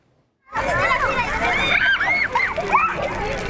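Children splash and play in water on a 95-degree day in Phoenix, with bursts of sloshing and splashing mixed with kids' shouts and chatter, loud and close, starting abruptly after a brief silence.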